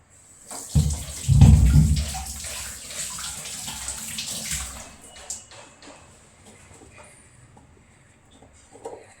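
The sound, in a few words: washing hands under running tap water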